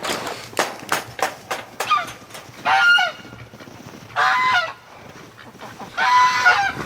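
Geese honking loudly and close by, a run of short sharp calls followed by three longer bursts of clamorous honks, on a winter farm in cold wind and snow where ducks and geese are kept.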